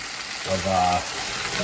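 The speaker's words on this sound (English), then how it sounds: "that's the sound of sauteing" Steady sauteing sizzle from a hot frying pan while cooking potstickers, a brief burst of louder crackling in the middle, with faint voice-like tones partly over it.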